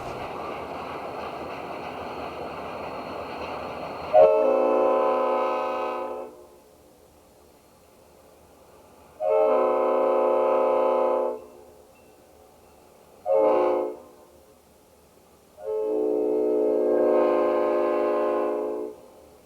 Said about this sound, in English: The Guilford train from Waterville is heading to East Deerfield,